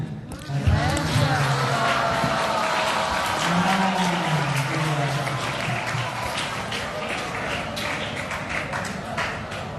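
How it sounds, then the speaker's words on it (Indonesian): A gathering at an Islamic foundation event claps together while voices chant Masya Allah, rapid rhythmic clapping under steady group voices and chatter, fairly close and sustained. "Coba tepuk tangannya baca Masya Allah, sama-sama tepuk tangan."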